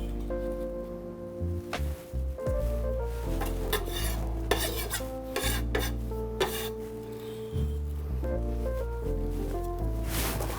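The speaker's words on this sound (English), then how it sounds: "I've got my chives chopped up and I'm gonna add that to my butter." Chopped chives stirred into butter in a bowl for an Australian Wagyu ribeye, close repeated scraping and rubbing strokes of a utensil with light clinks, irregular rhythm, no talk.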